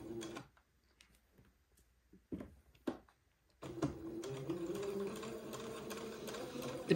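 A sewing machine zigzag-stitches a seam on a piece of baby clothing, starting after a few quiet clicks and then running as a steady, soft mechanical whir.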